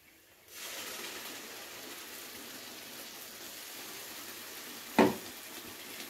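Tomato paste hits hot oil and spices for chicken kosha, setting off a steady, soft sizzle and fry that continues evenly, with one sharp clink partway through.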